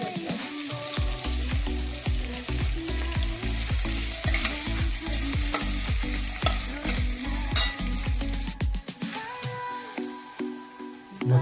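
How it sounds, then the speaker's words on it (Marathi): Masala with chopped curry leaves frying in oil, loud steady sizzling with rhythmic scraping strokes of a spatula stirring the pan, then quieter crackle and a few clinks. "हा मसाला व्यवस्थित तेलात लाल झाल्यापर्यंत करपायचा"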